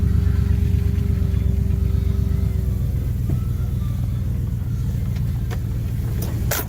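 A large pickup truck on Falken Wildpeak AT3 all-terrain tires pulls through a small patch of mud. A close, steady low engine rumble carries throughout and eases slightly toward the end.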